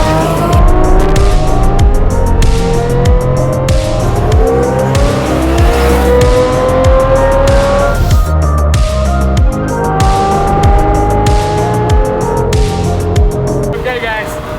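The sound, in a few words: Lamborghini Murcielago Roadster driving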